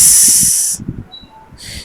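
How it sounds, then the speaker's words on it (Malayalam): Hot oil hisses loudly and splatters in an uruli pot for a moment before cutting off, then returns faintly at the end, with soft tapping beneath. "കുറച്ച് എണ്ണയും കൂടെ ഒഴിക്കാം. അയ്യോ തെറിക്കുന്നുണ്ട്."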